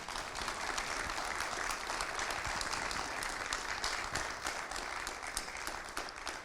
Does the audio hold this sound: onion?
no